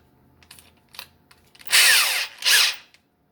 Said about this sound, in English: Not if you're drilling in steel